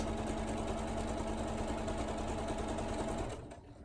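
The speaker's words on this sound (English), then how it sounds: "can do a decorative stitch if you like" A sewing machine runs a decorative stitch on a fabric tool wrap with matching thread, humming steadily and loud for about three seconds before winding down and stopping near the end.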